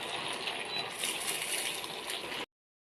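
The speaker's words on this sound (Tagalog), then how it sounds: "Lagyan po natin siya ng suka po, suka" Vinegar is poured into a pot of boiling chicken, a close, continuous splashing gush lasting a couple of seconds before it cuts off abruptly.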